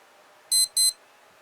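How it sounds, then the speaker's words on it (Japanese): Casio A700W-1A digital watch sounding its hourly time signal: two short, high electronic beeps in quick succession, clear and close, with no other sound. "このような形で時報を鳴らすこともできます。"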